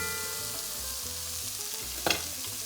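Spanish creamy rice (arroz meloso) sizzling steadily in a pan while being stirred, with a brief louder scrape of the utensil near the end; no talking.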